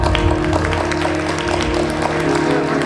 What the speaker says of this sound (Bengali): মুনিয়া ম্যাডামের জন্য একটা তালি।